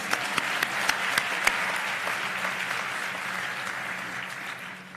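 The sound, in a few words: audience applause at ceremony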